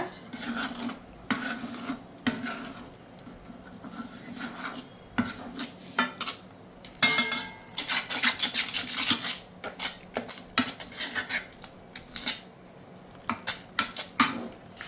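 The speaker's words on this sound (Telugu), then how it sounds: "ఎక్కడ ఉండలేకుండా చక్కగా కలుపుకోవాలి మెత్తగా చూడండి అమ్మా నేను కలిపాను" A homemade hair dye paste is stirred and mixed in a bowl, giving repeated scraping and clinking strokes of a utensil against the container, close and uneven in rhythm, with no talk.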